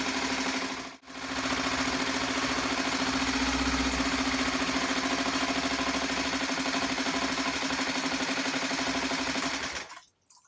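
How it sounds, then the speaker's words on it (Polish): A Neptune 2.6 HP outboard motor with a newly replaced carburetor runs steadily at a fast, even idle, close by. There is a short dip near the start and it cuts off at the end. "Silnik działa."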